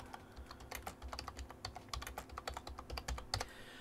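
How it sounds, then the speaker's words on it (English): Rapid, steady tapping on a computer keyboard as a keyword is entered, a close, quiet clatter of keystrokes with no talking. "I'm going to type in her keyword there"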